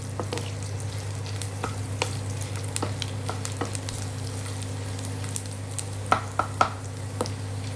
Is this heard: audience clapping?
no